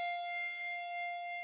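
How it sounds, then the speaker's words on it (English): A single handbell rings out, its clear struck tone and bright overtones starting at once and decaying slowly into a long, quiet sustain, heard alone. "Ring bell number 1 over its home position."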